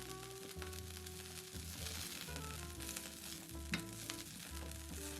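Salmon pieces and asparagus sizzle steadily in a hot pan as they are gently tossed, with a continuous frying hiss and low rumbling clatter of the pan throughout.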